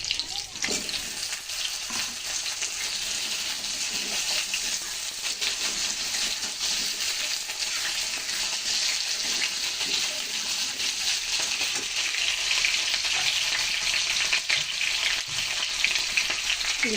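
Yam and pumpkin pieces frying alongside kohlrabi and potato in a pan, a dense, steady sizzle close up that carries on unbroken, with faint stirring scrapes mixed in.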